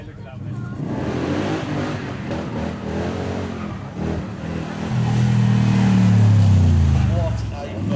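A V8 sports car engine with side-exit exhaust pipes rumbles deeply and swells into a loud, throaty rev near the end at a supercar show in Beaulieu, while someone talks over it.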